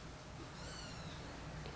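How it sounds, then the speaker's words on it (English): A kitten in a cage meows softly a couple of times, a faint, thin cry heard over low steady background noise. "Why is he meowing?"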